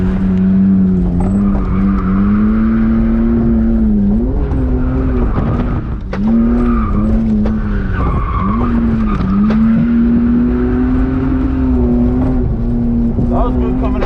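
BMW E46 drift car sliding around a race track, a loud sustained engine drone shifting in pitch under long tire squeal, close and continuous.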